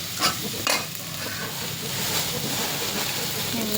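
Chopped tomatoes frying in a home kitchen pan, a steady loud sizzle with a couple of spoon knocks and scraping as the mixture is stirred.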